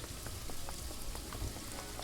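Dense, steady rainfall pattering on surfaces in the video game Paradise Killer, an even, continuous hiss with scattered drop impacts and no talking.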